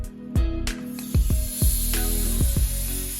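An ice cube placed beside bread dough in a hot oven, giving a loud, steady hiss of steam and sizzle punctuated by several sharp crackles and pops.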